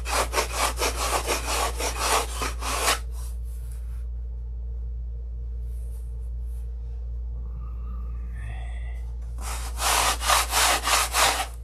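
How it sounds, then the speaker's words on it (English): A model airplane fuselage, a Sig Magnum, is sanded by hand with rapid rhythmic back-and-forth scratching strokes. They come in two bursts at the start and end, separated by a quiet pause over a constant low electrical hum. "I have a little bit of extra material here, so we're gonna sand it right here."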